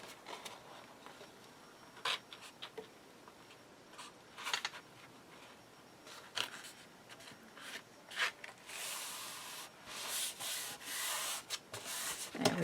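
Paper is burnished down by hand while a mini album is assembled, making intermittent scraping and rubbing strokes. These build into denser, louder rubbing toward the end, with no speech.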